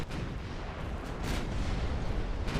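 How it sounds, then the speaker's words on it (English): Battleship shells strike home in a naval battle in Ultimate Admiral Dreadnoughts. Deep artillery rumble rolls on without a break, with a few sharper blasts standing out above the loud, continuous din. "Massive hits on both of their battleships there."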